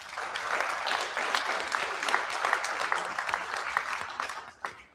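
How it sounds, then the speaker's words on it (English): A crowd at a community meeting in Okotoks claps together in sustained applause, a moderately distant, even patter of many hands that holds for several seconds before thinning out and stopping abruptly. "So give them all a round of applause,"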